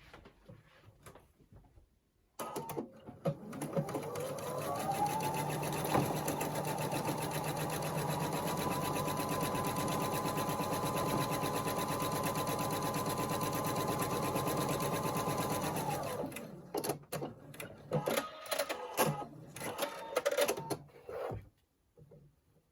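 A sewing machine runs steadily for about fourteen seconds, stitching long fabric strips onto a scrappy pumpkin quilt block, then stops, followed by brief handling and rustling sounds nearby.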